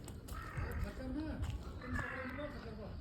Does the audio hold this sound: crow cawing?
yes